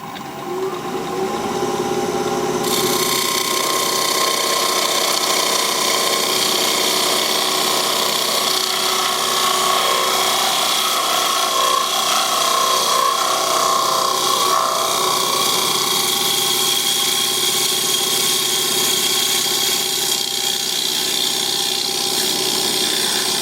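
A wood lathe turns a wooden bowl while a hand tool cuts and scrapes it, a steady loud grinding, rasping hiss that runs nearly unbroken from start to finish with no talking.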